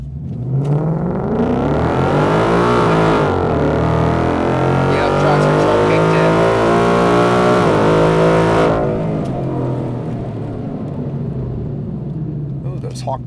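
A 2018–2023 Ford Mustang with a 10R80 transmission accelerating hard on street tires, loud engine roar rising in pitch through the rev range, a shift-like dip, then climbing again before easing off, close and dominant.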